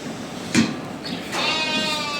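A ewe bleats loudly and drawn-out, calling for her lamb, close by, after a short bump.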